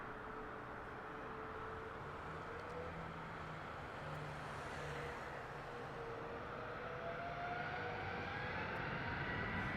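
Southwest Airlines Boeing 737 airliner on the runway at Harry Reid International Airport in Las Vegas, a steady distant jet engine roar that builds slightly over ten seconds, with no voices.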